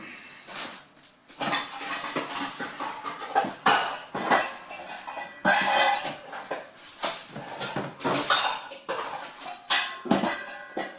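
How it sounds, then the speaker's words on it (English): Ceramic bowls and other kitchen dishes clink and clatter as someone rummages through them to pull out a bowl, with repeated knocks and scrapes in irregular bursts over several seconds. "Just going to grab a bowl"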